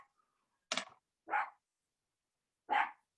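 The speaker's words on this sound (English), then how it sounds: "I've got a really, really loud dog, only when someone comes to the door." A loud dog barks three times indoors, each bark sharp and separate with short pauses between, close to the microphone and with no talk over it.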